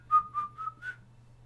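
Someone whistles a short four-note phrase of a tune, soft and close, with a faint steady hum underneath and no talking.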